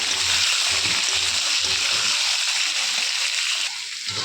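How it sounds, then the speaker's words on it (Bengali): Cut vegetables frying in a pan for khichuri, a steady loud sizzle with soft clattering in the first half that settles into a hiss, no voices over it. "সবজিটা দিয়ে একটু আমি ভালো করে ভেজে নেব"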